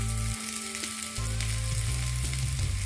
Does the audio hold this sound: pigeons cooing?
no